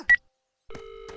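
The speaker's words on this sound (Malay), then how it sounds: "Biar aku telefon nombor kecemasan" A phone keypad sounds a short dialing tone, then after a brief pause a steady call tone begins and holds, as if an emergency number is being dialed.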